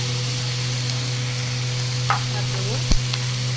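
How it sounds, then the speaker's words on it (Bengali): Ginger paste and masala sautéing in a pan for bhindi masala, with faint scattered stirring scrapes and light sizzle over a steady low kitchen hum. "আদা বাটা, মশলাটাকে একটু কষিয়ে দেবো।"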